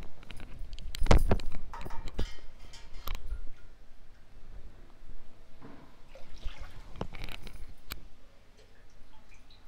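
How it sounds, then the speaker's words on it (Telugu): Water is poured into rice and moong dal for pongal, an uneven run of close splashes and trickles with clinks, loudest early and then settling into softer, lighter pouring. "దానికి మనం 3 కప్పులు నీళ్ళు పోసుకోవాలి"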